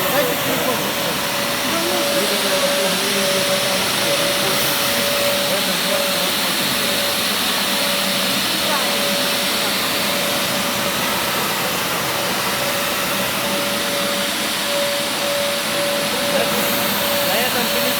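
A WINDY 365 IF three-turbine vacuum cleaner runs in a loud, unbroken roar with a steady high whine, constant from start to finish.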